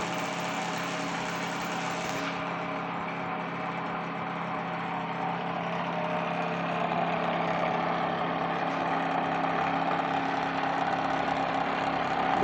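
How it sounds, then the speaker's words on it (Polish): A BLHF-RM synchronous motor runs steadily on a home test bench, giving a continuous even hum with a faint bearing drone. The hum holds level throughout and grows slightly louder toward the end. "Trochę jeszcze łożyska huczą, ale nie jest źle."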